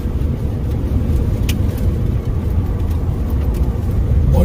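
A vehicle engine drops a gear while climbing a snowy mountain road. A loud, steady low rumble fills the cabin from close by, with a brief brighter blip midway.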